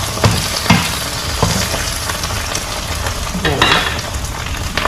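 Salted eggs fry in a hot pan with a steady, crackling sizzle throughout, broken by a few louder pops and spatters close up.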